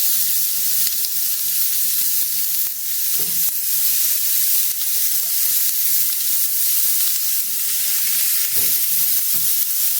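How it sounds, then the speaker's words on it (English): Steak sizzling on a hot grill, a loud, close, continuous frying hiss with faint crackles and pops throughout, no voices. "You hear that sizzle? That sizzle right there tells you"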